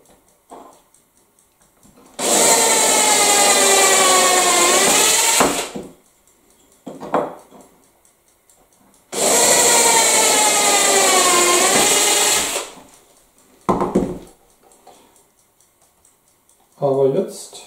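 A power drill bores holes through the baseboard of a Fleischmann main-line model railway layout, with two long whining bursts of several seconds each and a few brief starts in between, loud and close in a quiet room.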